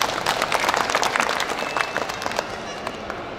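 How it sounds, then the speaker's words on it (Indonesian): Audience applause at the opening of Kadin Dumai Expo 2023, a dense, steady wash of many hands clapping throughout, fairly loud and continuous, easing slightly toward the end. "Kita berikan aplaus."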